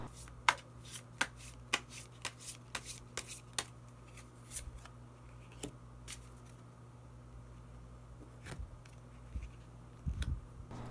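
Tarot cards are shuffled and drawn by hand, giving a series of sharp, close card flicks and snaps at uneven intervals, with one cluster of soft rustling near the end over a faint steady hum.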